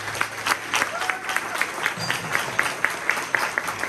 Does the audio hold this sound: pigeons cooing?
no